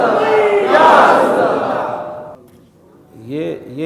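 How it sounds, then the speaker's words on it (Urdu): A crowd at a religious gathering roars a loud chant of religious slogans, which swells and then fades, before a voice speaks briefly at the end. "یہ نعرے ہی ہے۔"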